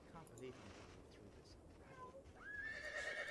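Horse neighing in the video game Sacred, a faint whinny rising near the end over quiet game ambience and soft hoof clops, with a person talking underneath.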